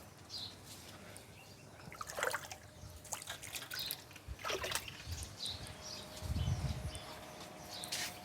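Water dripping and trickling into a pan while chicken larb cooks, faint, with soft irregular splashes and a low burst of pouring near the end, in a quiet kitchen.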